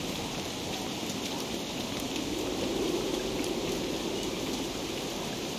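Steady, moderate rain hisses continuously in the video game Don't Starve, an even wash of falling drops with no voices.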